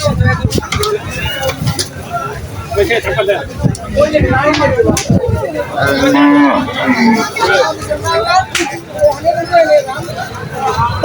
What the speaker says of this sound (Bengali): এদিকে আর অনেক গরু আসছে বড় বড় গরু এদিকে